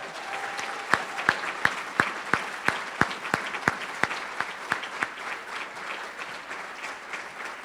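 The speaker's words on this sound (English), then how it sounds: "these individuals deserve a roaring round of applause" Banquet guests clap for scholarship donors in a large room, a steady run of distinct, evenly spaced claps over a low murmur rather than a dense roar.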